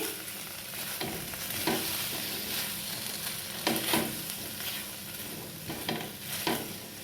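Snack mixed with tomato sauce in a hot pan: a spoon scrapes and stirs in steady, repeated strokes over a continuous close sizzle of frying.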